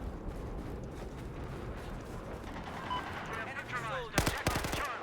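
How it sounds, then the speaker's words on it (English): Incoming gunfire aimed at the player in the shooter game Battlefield: a steady rattle of shots builds to sharper, louder bursts near the end, heard up close over the game's background noise. "That's me getting shot at."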